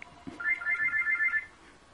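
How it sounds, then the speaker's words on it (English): A telephone ringtone plays once as a clear electronic warbling trill lasting about a second, moderately loud in an otherwise quiet room. "you heard the phone ring"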